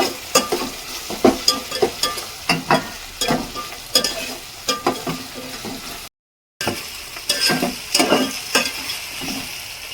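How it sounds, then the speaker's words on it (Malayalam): Tomato rice masala sautéing in a pan, with repeated stirring scrapes over a steady close sizzle, in irregular strokes throughout. "എല്ലാം കൂടെ നല്ലവണ്ണം വഴണ്ട് വരട്ടെ"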